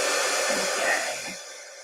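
An embossing heat tool blows hot air at a crafting desk, a steady close hiss and whir like a hair dryer that eases off toward the end of a short burst.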